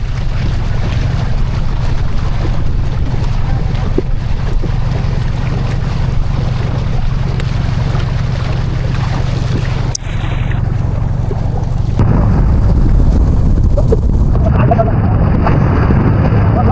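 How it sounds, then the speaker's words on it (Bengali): A trawler boat motoring across open haor water, its steady low engine drone continuous throughout with wind and water wash over it, the sound shifting and thinning partway through. "ট্রলার চলতে চলতে প্রায় 2 ঘন্টার মতো হয়ে গেল।"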